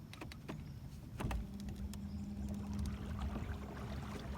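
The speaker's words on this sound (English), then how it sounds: "this trolling motor gets this thing cruising pretty good." A trolling motor pushes a kayak across open water, a low steady electric whine holding under faint splashes and knocks from the hull, quiet and close, with no voices.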